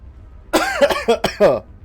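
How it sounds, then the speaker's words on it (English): A man coughs near the microphone while playing Final Fantasy 16 at home, several harsh, throaty bursts in quick succession with strained vocal tone, like choking, each clear and loud against a quiet background. "I cough like when I choke on cock."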